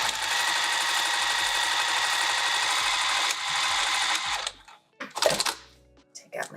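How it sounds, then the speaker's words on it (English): A sewing machine stitches down the side of a roll-up wrap, running as a steady close mechanical whir for about four seconds before stopping, followed by a few handling clicks and rustles. "I'm just going to sew this side down"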